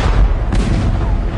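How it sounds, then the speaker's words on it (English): Real cannon in a young tsar's mock war games in old Russia fire leather cannonballs, a loud, heavy, rumbling boom that fills the whole moment without a break. "Though the cannonballs were made of leather, the cannon were real."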